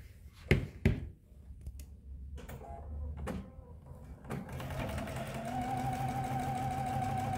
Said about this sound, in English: I'm going to take it to my sewing machine and I'm going to sew my eighth of an inch all the way down